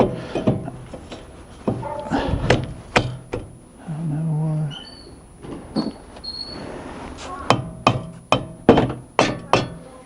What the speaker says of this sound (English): Mallet to get it on.